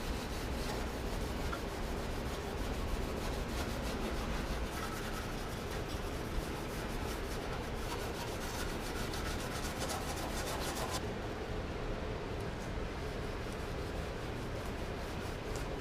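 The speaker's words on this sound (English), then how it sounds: "from sanding down this burnt metal or something." Sandpaper, around 320 grit, rubs over burnt metal in a Nissan S13 240SX engine bay during a restoration, a steady close scraping hiss that runs continuously and eases toward the end.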